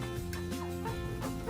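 Farm chickens give a run of soft, repeated clucks close by, short stepped calls overlapping at moderate volume with no talking.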